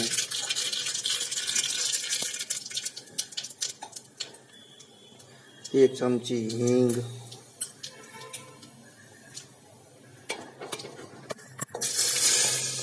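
Hot oil crackles and sizzles in a pan as mustard seeds are added for tempering khichdi, loudest at the start and end, with a person briefly speaking in the middle.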